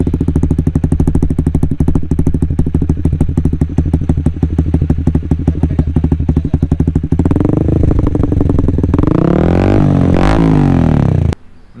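A Honda CB150R on a racing exhaust idles with a loud, rapid, chuffing pulse close by, then gets blipped through a few throttle sweeps that rise and fall before cutting off abruptly.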